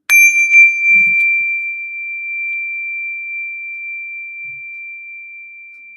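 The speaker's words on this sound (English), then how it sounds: "When you detect the vibrations of my bell" A meditation bell struck once: a bright, pure ringing tone that sustains steadily and decays only slowly over several seconds, alone in a quiet room.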